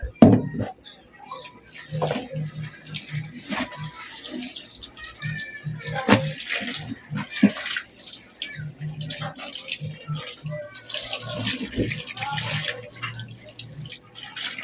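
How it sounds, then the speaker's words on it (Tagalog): Clothes are washed by hand in sudsy water. Soft splashes and sloshing repeat in irregular bursts, close by, with a person talking throughout. "Pag minsan po maglaba din po tayo guys"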